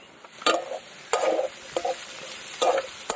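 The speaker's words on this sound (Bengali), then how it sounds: "পেঁয়াজটা এবার আলুর সাথে ভেজে নেবো।" Chopped onion frying with soft potatoes in plenty of oil in a pan, sizzling steadily while a spatula scrapes and stirs in three or four separate bursts.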